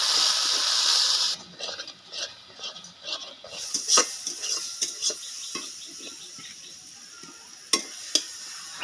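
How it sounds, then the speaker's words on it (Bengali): Spice masala of turmeric and chili powder for an Indian-style crab curry being stir-fried in a pan, with a loud sizzle at first, then softer frying and repeated scraping stirs close by. "এবার মশলাটা ভালো করে কষে নেব।"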